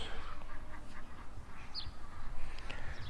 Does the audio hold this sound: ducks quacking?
yes